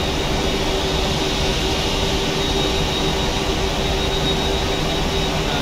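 In a flight simulator game, the engines of an airliner on a flight from Pangkal Pinang to Pontianak give off a steady, loud jet roar. The sound is even and unbroken, with no talking.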